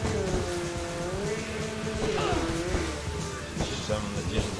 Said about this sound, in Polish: Ten motor mocno tutaj hałasuje.